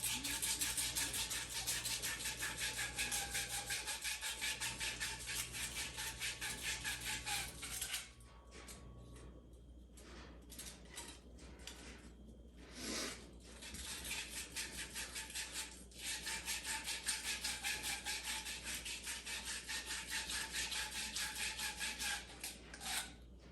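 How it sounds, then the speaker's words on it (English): A pipe end is scrubbed clean before fitting a SharkBite push connector, giving a continuous rough rasping rub that pauses briefly midway, then resumes steadily at close range. "you do want to clean your pipe prior to inserting it into the shark bite"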